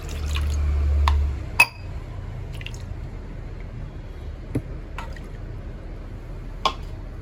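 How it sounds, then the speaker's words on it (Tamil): Water sloshing and dripping as a mixer grinder jar is rinsed in a home kitchen while cooking spicy fish curry, with a low rumble at first and then scattered splashes and clinks. "இந்த மிக்சியை கொஞ்சம் கழுவி வச்சுக்கலாம்."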